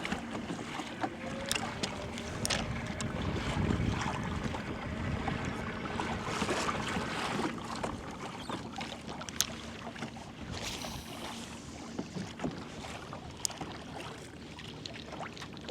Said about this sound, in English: Wind kicked back up.